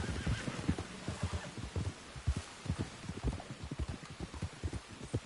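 Horse hooves clopping in a quick, uneven rhythm with a neigh in Red Dead Redemption 2 during a horse-wrangling moment, close, fairly quiet and with no talking.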